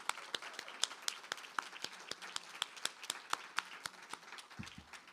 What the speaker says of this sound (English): We have another big round of applause for Asako Serizawa, Vicky Tomayko.